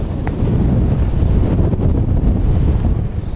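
Strong wind buffets the microphone at Wellington Airport, a heavy, low rumbling roar that gusts close and loud for a few seconds without any talk.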